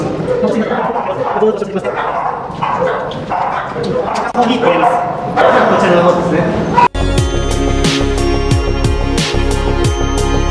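Several dogs yip, bark and whimper in quick bursts while people talk over them, then the scene cuts abruptly to a louder, harsher stretch of overlapping sound.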